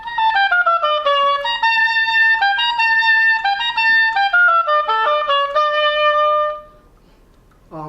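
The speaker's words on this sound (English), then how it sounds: "The pick up to bar 13 to the end will sound something like this" An oboe plays an etude passage from the pickup to bar 13 through to the end, a clear solo melodic line of connected notes descending in places, loud and close, ending with a short pause.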